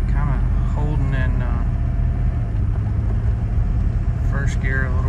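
A Porsche 928 pulling away in first gear, a loud low engine rumble heard from inside the cabin, with a rising whine as it accelerates, steady throughout.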